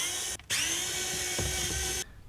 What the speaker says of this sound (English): And then we have just 2 Phillips screws, one on either side. Go ahead and take those out.